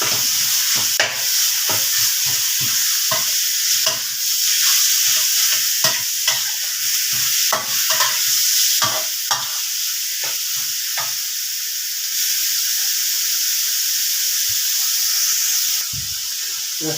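Continuous loud sizzling of pork neck stir-frying in a hot pan, with repeated scraping and stirring clatters of a utensil throughout.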